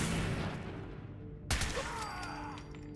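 Shotgun fire in the video game Fallout 4: dense, continuous rumbling gunfire for the first half, then a sharp loud blast that gives way to quieter rattling and a faint whine.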